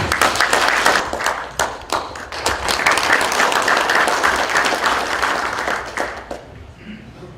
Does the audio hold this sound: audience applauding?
yes